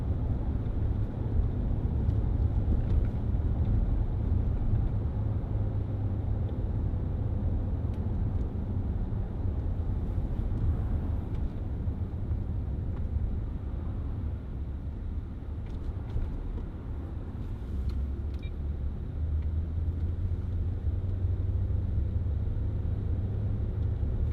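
A 2010 Range Rover Sport 3.6 TD V8 HSE on a road test, heard as a steady low cabin drone of engine and road rumble, with no voices.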